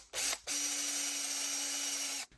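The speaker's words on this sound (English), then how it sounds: "Okay, now I got a center drill." A center drill bores into a metal block: a brief rising whine, a short break, then a steady high-pitched drilling hum that holds for a couple of seconds and stops abruptly.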